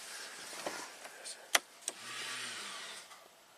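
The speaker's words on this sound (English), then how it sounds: "let's see if we can activate the parking brake here." Electric parking brake on a 2014 Cadillac SRX engaging inside the car: a few sharp clicks, then a low steady motor whir for about a second, with faint background noise.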